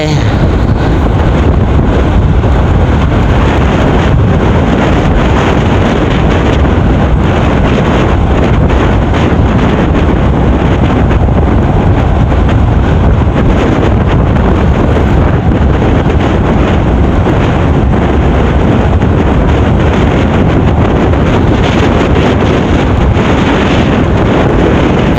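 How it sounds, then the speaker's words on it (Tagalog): Strong wind buffeting the microphone during travel in Masbate, a loud, constant roaring rumble that fills the whole stretch and swamps any other sound. "malakas yung hangin."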